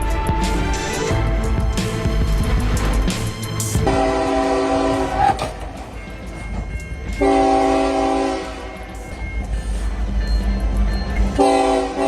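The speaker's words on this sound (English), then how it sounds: "Just be patient and wait for the train to pass." A train rolls past up close and loud, its horn sounding in several long blasts with rumbling wheels between them, and no talking.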